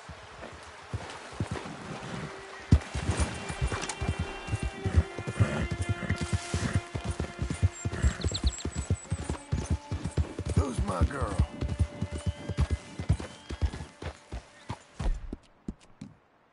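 Rapid horse hoofbeats pound in a quick galloping rhythm in Red Dead Redemption 2, fairly close, with voices speaking over the running and the hooves fading out at the end.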